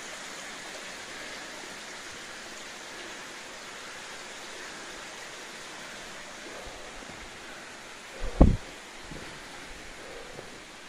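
Water in a flooded mine's manway passage flows as a steady, soft broadband wash throughout, with one brief louder knock or splash near the end and no talking.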